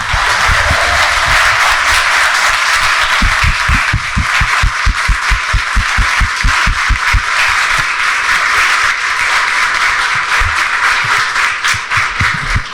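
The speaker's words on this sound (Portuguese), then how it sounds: "Uma salva de palmas para Vanderlei Oliveira." Sustained loud applause from a standing audience at a book launch for author Wanderley Oliveira, dense broadband clapping with a rhythmic low thumping beat running underneath throughout.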